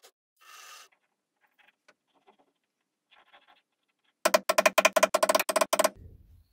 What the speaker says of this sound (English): I can now cut the mortises to receive the bolt and retention plate.